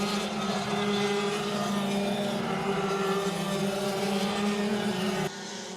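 Rotax Max racing karts braking and cornering on a circuit at Anykščiai, Lithuania, giving a steady, buzzing two-stroke engine drone that holds close and loud for several seconds before dropping off sharply near the end.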